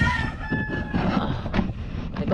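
A rooster crows loudly nearby, one long strained call over clucking hens and barnyard noise.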